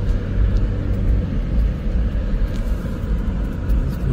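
A standard-transmission car drives along streets in Puerto Vallarta, and from inside the cabin a steady, loud low rumble of engine and road noise runs without a break and without talk.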